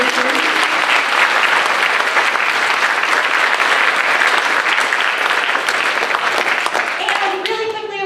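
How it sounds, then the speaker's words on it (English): Loud, sustained applause from a school concert audience for the 7th grade orchestra students, dense clapping filling the room throughout before fading slightly at the end. "round of applause for all of our 7th grade students"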